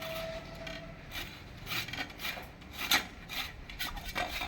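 A raw green mango is rubbed against a grater in steady back-and-forth strokes, each pass a soft close rasping scrape repeating roughly twice per second.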